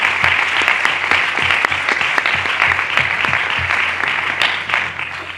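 An audience at a talk on women's sport in Cártama applauds, individual claps audible within a full, steady round that fades slightly at the end.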